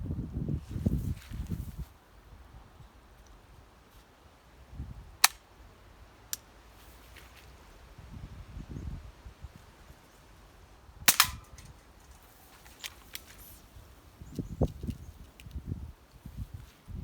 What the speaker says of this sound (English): I'll have a few practice shots on the cans just to get used to the gun again.